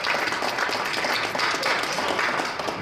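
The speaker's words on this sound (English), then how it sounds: "But if you do, let's hear you clap." Audience at a boxing press conference clapping steadily for a few seconds, a moderately loud, even patter of many hands with no voices over it.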